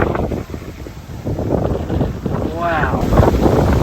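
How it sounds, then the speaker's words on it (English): Strong wind at a hilltop overlook buffets the microphone with loud, continuous rumbling gusts, and a voice briefly rises above the roar. "Probably can't hear shit because all the wind."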